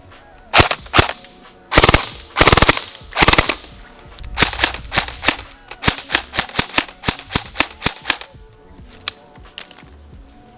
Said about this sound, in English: try and see if you guys can see the line of BBs as I'm shooting it